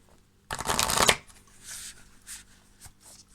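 A quick riffle of tarot cards being shuffled, one loud close burst followed by softer card handling and faint taps.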